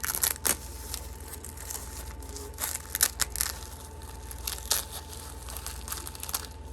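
Backing being peeled off a machine embroidery, giving close crinkly tearing and crackling rustles in short irregular bursts over a faint steady hum, with no voices.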